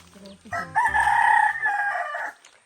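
A rooster crows once, loud and close, a long drawn-out call rising and holding before trailing off, with faint background sounds before it.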